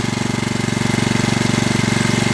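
An engine charging batteries idles low and steadily up close once the battery is full, its loud, even chugging pulse running throughout without any change in speed.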